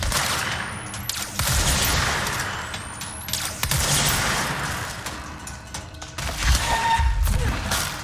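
Shotgun blasts in the video game Control boom out in heavy, spaced bursts over a dense backdrop of combat noise, with several strong reports across the stretch.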